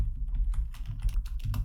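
Quick, light keystrokes on a computer keyboard while typing code, a close rapid patter of clicks with uneven rhythm over a low background hum.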